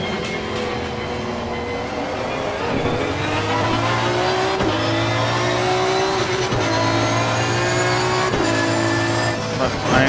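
An Aston Martin V12 GT3 race car at the Barcelona circuit in Assetto Corsa Competizione, its engine droning loudly and continuously, pitch climbing through gears with brief dips at each shift.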